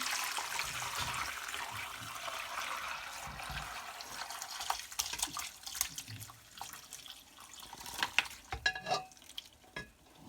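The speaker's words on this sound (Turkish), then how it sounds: "Dinlendikten sonra sık elekten şimdi süzeceğiz." Hibiscus sherbet is strained through a fine sieve: a quiet, continuous trickle of liquid with soft clinks and stirring scrapes near the end.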